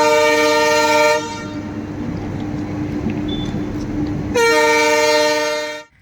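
A relief train passing on a railway track, with a loud drawn-out horn at the start and again near the end around a close, rumbling rush of wheels and carriages that fades out at the finish.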